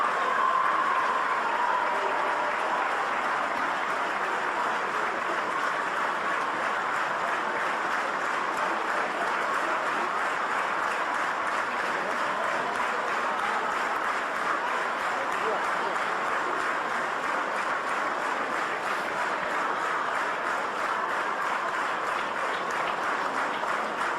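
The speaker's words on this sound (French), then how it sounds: "applaudit également par tout le public de ce stade Ernest Vallon" Stadium crowd at the Ernest Wallon ground applauding during a women's Six Nations rugby match between France and Ireland, a broad, continuous roar of clapping and cheering from a large distant crowd, with a commentator speaking over it.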